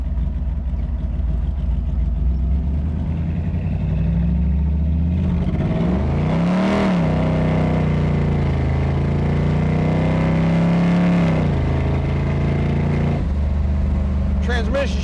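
1940 Ford coupe accelerating on the road, engine revving up through gears with audible rises and drops in pitch, loud and close inside the car, with a voice talking over it.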